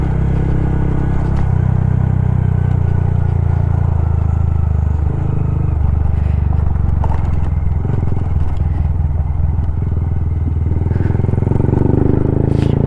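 A Honda Grom motorcycle being ridden, with a continuous low engine drone and road and wind rumble that swells slightly toward the end, heard alone without talk.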